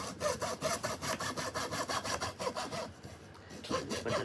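A hand saw cuts through bamboo in steady rhythmic back-and-forth strokes, close and loud, pausing briefly before resuming for a few more strokes.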